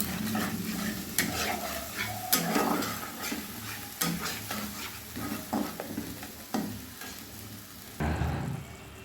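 Onion, garlic and cashew paste with ground spices stir-fries in a pan, a low sizzle broken by repeated scraping strokes of a spatula and occasional clinks, close and without voices.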